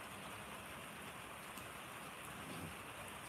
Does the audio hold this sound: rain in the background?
yes